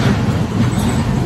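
Busy intersection traffic near two large Manhattan bridges in Chinatown, a dense, continuous rumble of vehicles with rattling undertones, loud and close with no voices.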